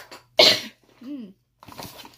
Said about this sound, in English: I have a residual cough